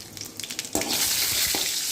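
Mustard seeds and urad dal crackle and sizzle in hot oil in a pan for kovakkai poriyal, a bright close hiss that swells after a sharp pop and holds steady, with faint stirring clinks before it.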